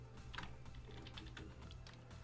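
Keys on a computer keyboard tap out a quick run of soft, close clicks as a search is typed into a browser, fairly quiet with no talk.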